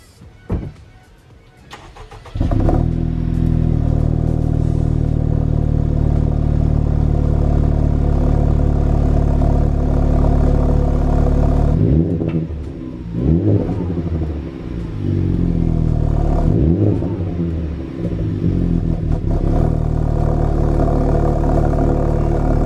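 A Honda Civic Type R engine starts up and then runs loud and close, holding a steady drone with a few revving swells as the car pulls away, and no voices over it.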